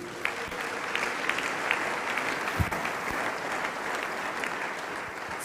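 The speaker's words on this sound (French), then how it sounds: "Acclamons le Seigneur." A church congregation applauds to acclaim the Lord, a dense, steady wash of clapping from many hands filling the hall, with a few voices faintly underneath.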